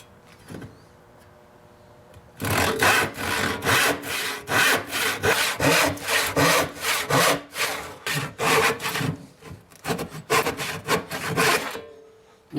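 A hand saw cuts a piece of wood for a homemade pedalboard, the workpiece propped on a garbage can. Brisk back-and-forth rasping strokes follow in a steady rhythm after a quiet start, close and loud, with no talking.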